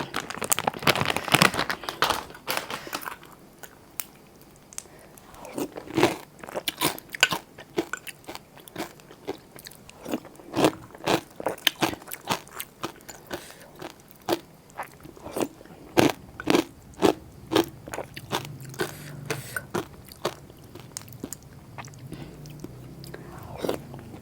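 Crunchy Thai pork cracklings bitten and chewed up close, a long run of sharp, crackling crunches in an irregular rhythm, some louder than others, with no talk over them.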